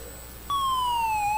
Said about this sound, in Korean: 그 사이렌 울도록 해놓은 거 있잖아.